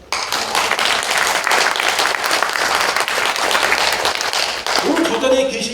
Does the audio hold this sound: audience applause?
yes